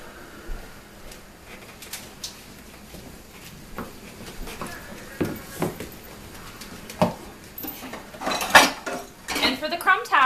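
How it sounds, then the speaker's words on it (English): Rhubarb pie filling being stirred in a bowl, with irregular clinks and scrapes of a utensil against the dish that grow busier and louder toward the end, with no talking. "Can you stir that just a little bit more"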